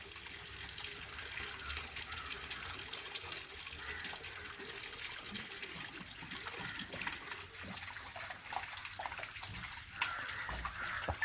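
Water runs steadily out of a Jalamithra water filter tap, a soft continuous trickle and gush heard fairly faintly and close by, with no talking over it.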